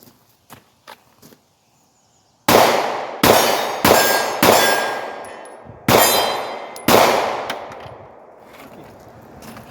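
An M&P Shield 9 pistol fired at a steel target 15 yards away, six loud shots at an uneven pace with metallic clangs ringing after each, preceded by a few faint handling clicks.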